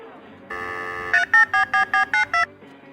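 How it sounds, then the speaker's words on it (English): A phone gives a steady dial tone, then a quick run of seven crisp, evenly spaced touch-tone beeps as a number is dialed, close and loud, before the line goes quiet. "Let me make a quick call on the bat phone."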